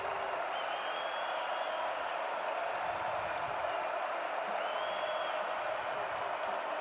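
A large home football crowd for North Dakota State Bison roars in a stadium, a broad sustained cheer with faint whistles rising and falling, heard from a distance and steady throughout.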